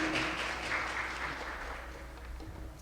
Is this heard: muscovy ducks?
no